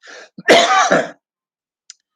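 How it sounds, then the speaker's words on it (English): A close, harsh cough with throat clearing, one strong burst after a short breathy lead-in, then quiet. "I'm going to cough."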